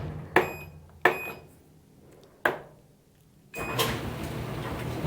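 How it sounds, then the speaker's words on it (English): Repaired clothes dryer being tested: a few sharp clicks and knocks, likely the door and controls, then the motor starts up into a steady rumbling hum. "I'm gonna plug in the dryer and test it and make sure it works."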